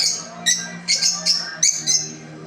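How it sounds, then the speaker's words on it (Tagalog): African lovebirds chirp in short, sharp bursts, about half a dozen high piercing calls arriving in quick irregular pairs, fairly close and alone with no voices. "Kaya yun yung update ng aking African lovebirds."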